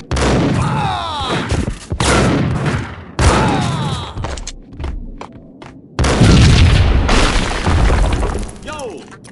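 A hotel level of the video game Max Payne brings a series of loud, booming explosions with shattering debris. Heavy blasts land about every two seconds, with a big final burst, and voices speak between the hits.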